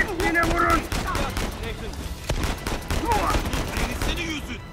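Repeated gunfire in the video game Uncharted 4, bursts of shots crackling over a busy battle mix while people talk excitedly throughout.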